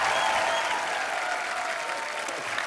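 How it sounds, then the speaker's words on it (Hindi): A studio audience at a TV comedy show applauding steadily, a dense wash of clapping that holds at a fairly even level throughout with no talking. "आप सबकी जोरदार तालियों के बीच"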